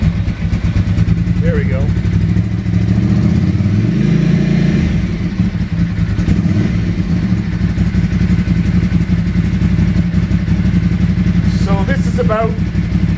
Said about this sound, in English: I'm going to give it a little bit of throttle here just by pulling on the cable.